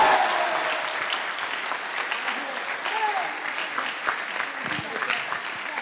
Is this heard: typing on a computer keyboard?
no